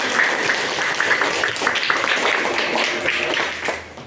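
A room of people clapping together at a university teacher-training session, a steady crackling burst of applause that holds for a few seconds before tapering.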